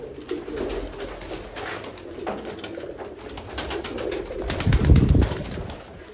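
Sialkoti pigeons in a large loft of about 120 birds coo steadily in overlapping low calls, with bursts of wing flapping and a louder rustling swell near the end.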